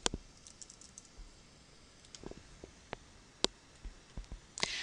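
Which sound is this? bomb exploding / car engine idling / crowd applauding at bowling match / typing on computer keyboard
typing on computer keyboard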